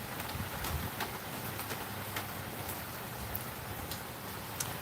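Faint, steady rain patters outdoors, a soft continuous hiss with occasional distinct drops, quiet and alone.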